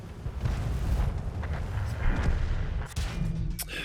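Repeated booming tank cannon fire in World of Tanks from a Covenanter tank battle, dense low rumbling blasts filling the whole stretch with a sharper crack near the end, no talking over it.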